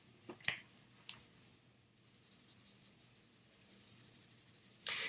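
Felt tip pens colour on paper with faint, close scratching strokes, some quick and separate, others in a run of rubbing marks, ending in a louder scribble.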